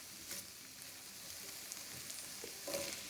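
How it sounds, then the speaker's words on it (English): Cut potatoes stirred into frying onions and spices in a pan, a soft steady sizzle with a few scraping stirs, fairly quiet and close. "Stir the potatoes so it's nicely blended with the onions and the spices."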